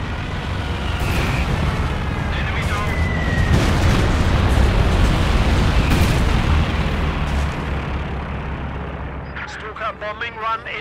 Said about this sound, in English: Fragmentation bombs will decimate their infantry. Fragmentation bombing run has begun.